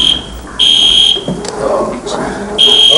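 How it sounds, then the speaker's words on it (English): A fire alarm buzzer in a county meeting hall sounds in loud, steady bursts with short gaps between them, while people talk in the room over and between the blasts. "I don't smell any smoke. It must be a false alarm."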